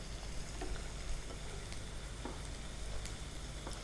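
Garlic and ham frying in a pan for Spanish croquettes, a steady dense sizzle with light stirring scrapes and crackles throughout, close and loud, no talking.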